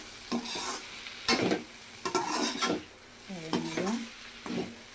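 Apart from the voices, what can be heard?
spiny gourd frying in a pan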